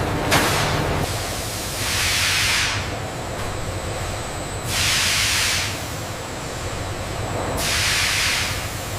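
Loud bursts of a steam injector hissing at slightly high pressure in a bamboo processing factory, three long blasts, each a few seconds, separated by pauses over a steady low industrial rumble.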